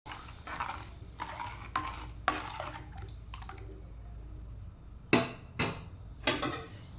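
Tomato, onion, ginger and salt go into a pot of fish curry masala, making soft clinks, taps and wet plops in an irregular run of small knocks at moderate distance with no talking.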